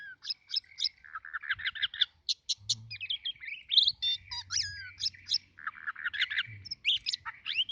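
A black-chested oriental magpie-robin sings a varied, rapid series of clear whistles, trills and chirps, close and continuous, with faint low croaks beneath.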